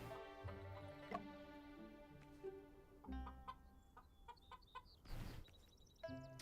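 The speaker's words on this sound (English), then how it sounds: "Look, Shin, there are 2 free-range chickens here." Two free-range chickens cluck in the Murders on the Yangtze River video game, with several short, close clucks over a steady musical background.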